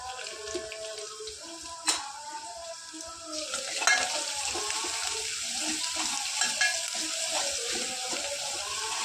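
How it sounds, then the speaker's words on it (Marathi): Onion fries in a pan with cumin, mustard seeds and garlic for matki bhaji, a soft steady sizzle accompanied by occasional scraping and clinks of stirring, fairly quiet and close. "कांदा तळायला टाकलाय, जिरे मोहरी कांदा, लसूण"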